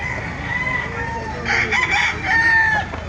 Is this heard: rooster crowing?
yes